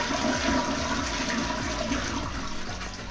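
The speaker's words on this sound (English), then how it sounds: "So let me flush the first time." A toilet with a warm water bidet attachment flushes nearby, a loud gurgling rush of draining water that slowly tapers off over a few seconds, with no speech.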